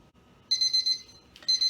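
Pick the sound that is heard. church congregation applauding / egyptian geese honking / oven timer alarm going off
oven timer alarm going off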